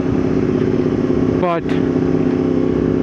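A motorcycle fitted with an Akrapovič exhaust runs at a steady, close idle throughout, a continuous droning hum broken by one brief wavering blip midway.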